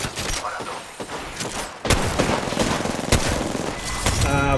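Rapid automatic gunfire bursts out in the Apex Legends video game, loud and close, in several sustained volleys.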